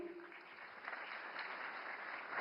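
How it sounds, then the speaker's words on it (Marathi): An audience claps at the 98th All India Marathi Literary Conference in New Delhi, a steady, dense wash of applause from a large crowd, fairly distant and even throughout. "शमीमा अख्तरसाठी पुन्हा एकदा जोरदार टाळ्यांचा गजर करूया"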